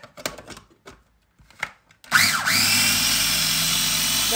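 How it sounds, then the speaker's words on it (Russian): A blender blending lovage paste starts after a few soft clicks and handling sounds, then runs loud and steady with a whirring motor whine until the end. "Дальше продолжаем блендерить пасту."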